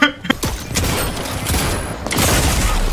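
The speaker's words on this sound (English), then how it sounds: "these turrets are insane" Automated turrets fire in rapid bursts during a chaotic Fortnite match, with a dense, steady stream of booming shots and thuds filling the clip and only faint voices underneath.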